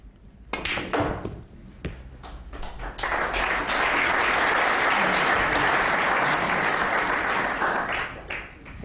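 Snooker crowd at the 2006 Pot Black Cup semi-final applauding a shot, a few scattered claps first, then sustained loud applause filling the hall before tapering off near the end.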